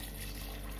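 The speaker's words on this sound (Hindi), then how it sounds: "अब इसमें मैं पानी डाल दूंगी।" Water poured into a pot of fried peas for chole matar, a brief soft splashing trickle close by.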